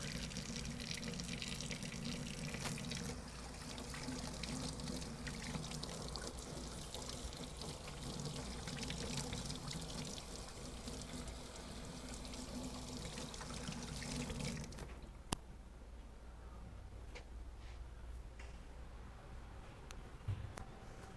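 Water runs steadily from a tap into a sink while hands are washed, a constant rushing that stops abruptly partway through, leaving quiet room tone with a sharp click.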